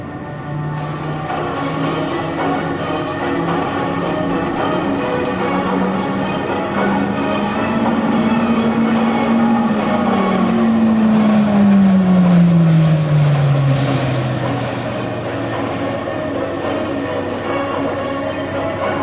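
A 27-ton E-2C Hawkeye flies a tight 360-degree minimum-radius turn at the 2005 NAS Oceana airshow, its loud, sustained propeller drone rising, then sliding lower in pitch as it sweeps past.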